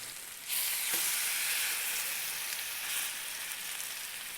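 A cheap pork cut sears in a hot pan, its sizzle starting abruptly and then holding as a loud, steady hiss close up, with no voices.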